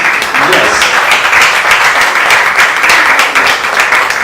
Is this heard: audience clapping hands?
yes